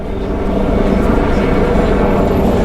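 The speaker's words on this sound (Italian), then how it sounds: "qui sopra ci stanno gli elicotteri" Helicopters hovering above a heavily policed square at Rome's Termini station, a loud continuous low rotor drone with steady throbbing texture and no clear speech.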